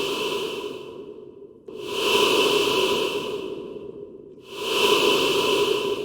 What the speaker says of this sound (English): I just want to create a short ghost breath that's often used in horror movies or in horror games